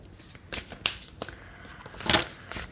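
Tarot cards being shuffled and drawn, several short crisp riffling bursts and snaps spaced irregularly, close and fairly quiet with no talking.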